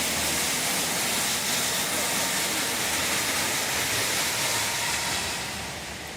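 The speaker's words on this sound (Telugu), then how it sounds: "ట్రైన్ అనమాట, ట్రైన్ వెళ్తుంది." A running toy train gives off a loud, continuous rushing hiss, close and steady, that fades slightly toward the end, with no clear talk.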